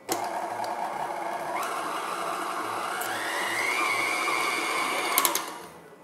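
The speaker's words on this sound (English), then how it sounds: "this is going to beat for about 3 minutes until really creamy" An electric mixer beats cream cheese with granulated sugar for a peanut butter cookie dough chocolate cheesecake, giving a steady whirring drone that rises slightly in pitch partway through and runs without a break.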